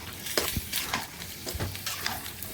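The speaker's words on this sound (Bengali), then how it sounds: "মূলা দিয়ে দিব, মূলা দিয়ে একটু মিক্স করে নেব।" Fish curry with radish is stirred in a pan, with soft scraping strokes and light clinks of the spoon repeating in an uneven rhythm over a low sizzle, close and fairly quiet.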